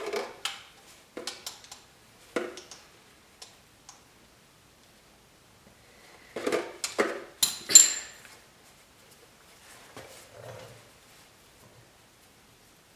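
Metallic ticks and scraping clicks of a wrench loosening the 17mm oil drain bolt on a Kawasaki KLX 110, in several short bursts separated by quiet gaps, fairly close.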